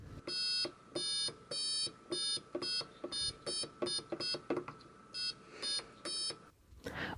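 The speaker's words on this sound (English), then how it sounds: "each button will create a different tone, almost like a piano" Arduino button keyboard where each button plays a different electronic tone like a piano: a series of about a dozen short, bright beeping tones at varying pitches, pressed in quick succession, close and fairly quiet, with no talk.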